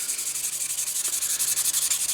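Close, steady rubbing of 1000 grit sandpaper against a budget leathercraft hammer, a continuous rasping scrape in quick even back-and-forth strokes, with no voices.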